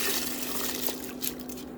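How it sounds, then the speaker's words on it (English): Lentils going into a pot of boiling water for chard lentil soup, a steady bubbling, splashing wash of liquid with a low hum beneath, close and moderately loud. "In boiling water, let's boil our lentils."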